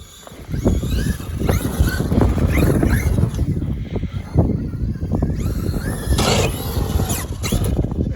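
A Traxxas E-Revo 2.0 RC truck drives through snow, its electric motor whining and rising in pitch with bursts of throttle while tires churn and crunch; loud and close, with no talking.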